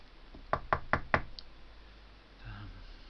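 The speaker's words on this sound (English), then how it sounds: "when there was a knock on the door." Four crisp knocks on a wooden door in an even rhythm, close and distinct, followed by a brief softer rustle against a quiet background.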